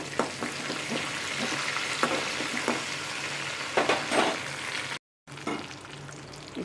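Curry leaves and onions fry in a pan, a dense steady sizzle with occasional stirring scrapes and a brief dropout near the end.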